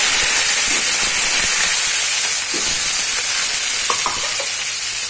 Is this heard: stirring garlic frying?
yes